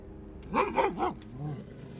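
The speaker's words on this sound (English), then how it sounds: "A bad doggy." Dog barking in the video game Curse of Resthaven, three quick, mid-pitched barks in a row followed by a lower, softer growling bark, close and clear.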